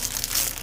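Plastic wrapping on a crystal hair remover being opened by hand, a brief close crinkling and rustling of the plastic with no talk.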